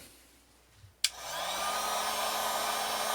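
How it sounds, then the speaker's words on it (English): A heat gun clicks on and then blows a steady, loud roaring whoosh while warming vinyl wrap on a car hood, close by with no talk. "get the heat gun back"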